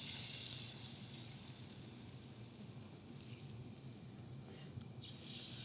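Rosette cookie batter frying in hot oil gives a steady, close sizzle and hiss that runs the whole time, rising slightly near the end, with no talk.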